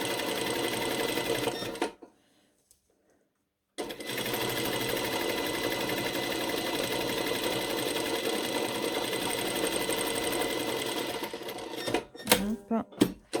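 Sewing machine topstitching a zipper fly on shorts, a close, steady rapid whirring that pauses briefly near the start, then resumes and ends in a few handling clicks and knocks.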